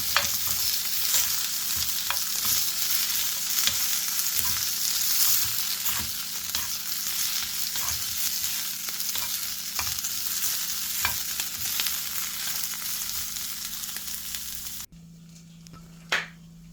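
Meat and onion sizzle and fry in a pan for a Philly cheesesteak, a loud continuous crackle with stirring clicks throughout, cutting off abruptly near the end to quiet with a faint clink.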